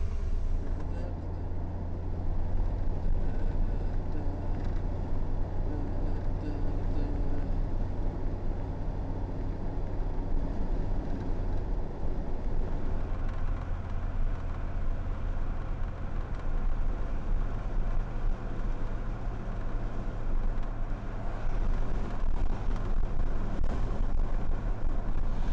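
Steady low road rumble and wind noise from a car driving along a road, continuous and fairly loud throughout with no distinct events.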